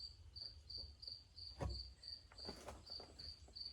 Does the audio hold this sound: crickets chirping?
yes